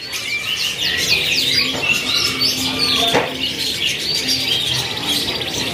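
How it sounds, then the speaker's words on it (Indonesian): An AF-series canary sings continuously in a bird shop, with bright trilling chirps and tweets layered over a busy background of other birds, steady and fairly close throughout. "nyari burung kenari dari seri AF yang sudah gacorannya"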